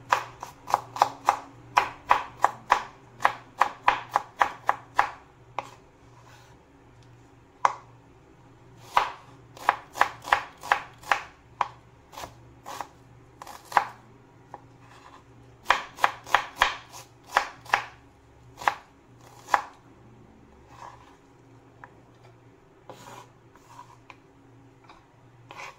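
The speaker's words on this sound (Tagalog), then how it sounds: "maghiwa muna tayo ng ating panggisa. Simple lang yung ating panggisa guys. Bawang sibuyas tsaka sili lang." Garlic, onion and chili being chopped with a knife on a board, close and sharp, in quick bursts of rapid taps broken by short pauses, with no talking.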